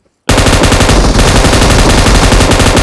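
ASM rifle gunfire in a battle royale shooter, bursting in after a brief silence as loud, close, rapid automatic fire that continues unbroken to the end with no talking.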